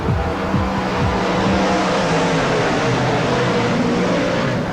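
A pack of speedway race cars roaring off at the start of a B-Main race, loud and continuous engine noise with rising and falling revs as they pass close by.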